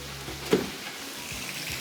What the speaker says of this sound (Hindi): मछली को हम फ्राई कर रहे थे, मछली थोड़ी सी ज़रा चिपक रही थी पैन में